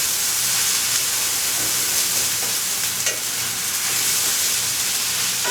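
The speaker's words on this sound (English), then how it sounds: "And saute this first without the liquid." Arame seaweed sizzles steadily in a hot pan as it is sautéed dry and stirred, a continuous close frying hiss with faint scraping, no voices.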